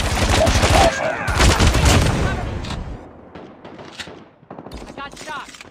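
Gunfire during a ranked match in the video game Call of Duty Mobile: loud bursts of rapid shots in the first few seconds, followed by scattered quieter shots and game voice callouts.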